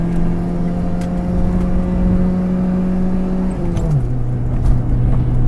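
A Proton Saga car accelerates through its gears: the engine drones loudly at a steady pitch, then drops sharply at a shift and carries on lower. It sounds close and continuous with no speech.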